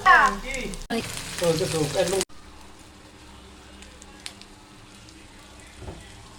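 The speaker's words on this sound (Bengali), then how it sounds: "তো চিকেন ফ্রাই দিচ্ছি, আপনারা দেখতে থাকেন।" Chicken pieces frying in oil give a steady, soft sizzle after a burst of loud voices at the start, continuing alone at a moderate level with a few faint clicks.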